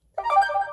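A short electronic notification tone sounds on a Motorola Moto Z phone, a single bright melodic chime starting abruptly and ringing steadily for under a second, close and clear with no talking.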